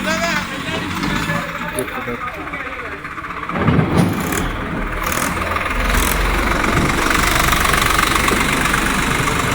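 A tractor engine runs at a tractor fair, a steady rumbling idle with a knock. Crowd noise and voices sit around it, and a louder surge of engine sound builds partway through.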